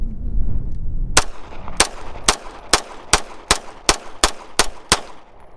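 Ten sharp pistol shots from a Springfield SA-35 and an FN Hi-Power ring out one after another at an even, steady pace, each a loud close crack with a short ringing tail.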